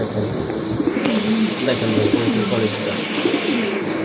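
Pigeons from a collection kept for sale coo in low, repeated rolling calls close by, with someone talking over the birds throughout.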